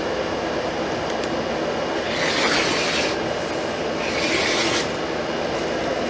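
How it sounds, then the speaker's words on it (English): Scissors or a rotary cutter slice through fabric while cutting 6-inch-wide strips for a dress, a steady close rubbing rasp that swells into two louder bursts of cutting. "I'm actually going to cut two of these 6 inch wide strips"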